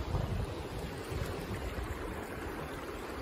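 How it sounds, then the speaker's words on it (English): The Indus river flowing beside the Dras–Kargil highway in Ladakh, a steady broad rush of water mixed with wind buffeting the microphone, continuous and fairly loud with no pauses. "This is the river."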